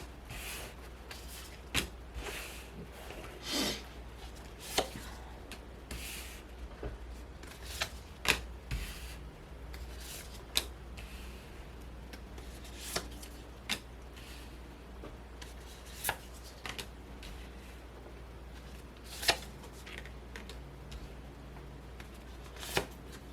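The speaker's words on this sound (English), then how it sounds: "First, I'm going to lay out the cards." Tarot cards are shuffled and laid out on a table, producing soft repeated riffling and sharp intermittent slaps and snaps at irregular intervals, quiet and close with no talking.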